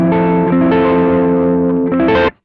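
An electric guitar played softly through a BOSS OD-3 overdrive gives a lighter crunch tone, with a couple of sustained chords, loud and alone, then a final strum that cuts off.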